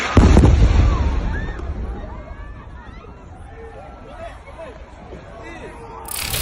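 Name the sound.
bombing explosions in Gaza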